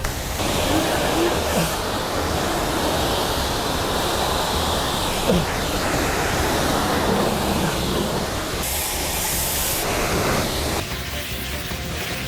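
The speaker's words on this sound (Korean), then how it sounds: "민철아 물을 위에서부터 뿌려 밑에서 밑에서 뿌려 위에서 아래로 뿌리시면 됩니다" Water sprays from a hose onto a used, accident-damaged car during a hand wash, making a loud, continuous hiss with small shifts in tone as the spray moves across the body.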